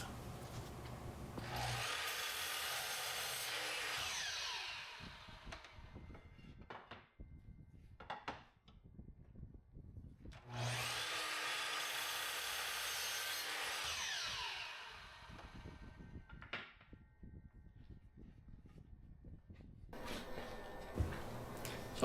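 Short wooden boards for a sign frame cut to length with a power saw: two long, loud whining cuts separated by clunks and handling knocks, then a third cut starting at the end.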